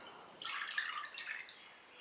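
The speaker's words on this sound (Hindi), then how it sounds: "बोल में डालेंगे आधा कप दूध" Half a cup of milk poured into a mixing bowl while making bun dough, a short soft trickling splash lasting about a second, quiet and close with no talking.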